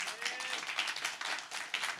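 Scattered applause from a church congregation, a dense patter of many hands clapping steadily for about two seconds, moderately loud with no voices over it.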